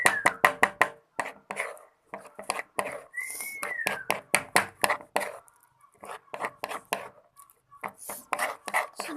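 Milky slime made with liquid soap being stirred by hand, with quick, rhythmic wet slaps and squelches in irregular bursts, close-up, along with a brief whistling tone.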